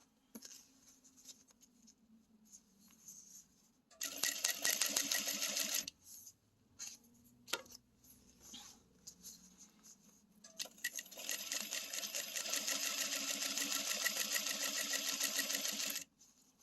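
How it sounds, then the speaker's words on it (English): Close-up sewing machine stitching a pocket, with short bursts of rapid mechanical needle chatter separated by pauses and light handling clicks, then a longer sustained run of stitching. "So what I'm sewing here, the present foot is actually jamming at the teeth of the needle just as a guide."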